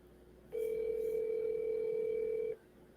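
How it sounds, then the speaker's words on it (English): One steady telephone ringback tone lasting about two seconds, a flat electronic hum over faint line hiss. "Oh, it's ringing."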